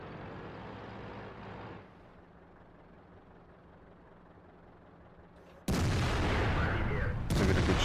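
In World of Tanks, an IS-6 heavy tank's gun fires in a sudden loud blast after a quiet stretch of engine hum, with a second sharp report close behind.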